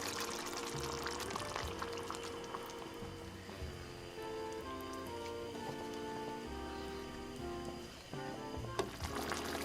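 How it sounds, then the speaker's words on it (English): Water pours into a pot of beef chile colorado as it is being made, a steady, fairly quiet stream beneath background music for most of the stretch. "And add your water."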